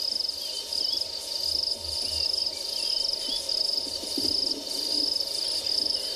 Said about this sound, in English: that insect sound that you can hear that sounds very similar to a cicada is the call of this crested grasshopper